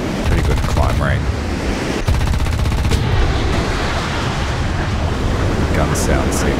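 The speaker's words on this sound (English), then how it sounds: "Gun sound sick." Aircraft cannon on a J35A Draken jet fighter in a flight combat video game, heard as dense rapid bursts of fire over a constant roar of engine and wind, loud and close throughout.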